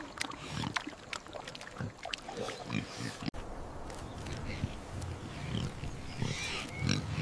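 Pigs grunt and oink in a farm field, with several short snorts and grunts scattered through a noisy outdoor background and a voice talking over them.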